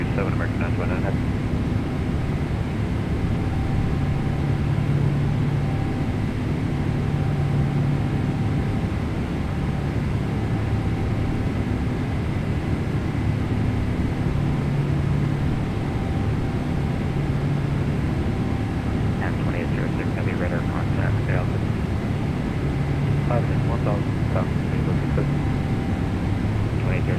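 The engines of a Boeing 777-300ER roar in a steady, loud drone as it departs in Microsoft Flight Simulator 2024, with voices talking over it at moments.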